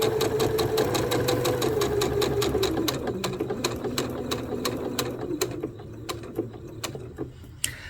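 A sewing machine stitches quilt fabric with a fast, even mechanical rattle that slows near the middle and breaks into separate clicks toward the end, close and clear with no talking.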